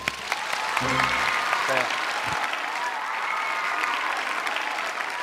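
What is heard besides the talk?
audience applause at a TV opera show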